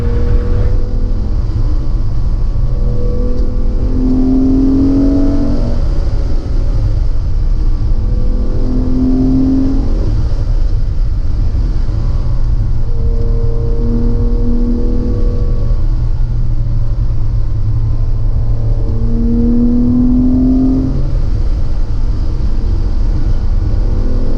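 A 2000-model rally car at a rally event pulls away, its engine droning loud and steady close by, rising and falling in pitch as it gathers speed, with no talking.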